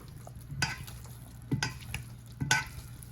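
Flour-coated beef for stew being stirred in a pot, with three distinct scraping, sizzling strokes spaced about a second apart over a low, steady frying hiss, close and fairly quiet, without talk.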